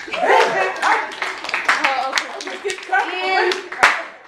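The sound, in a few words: round of applause, clapping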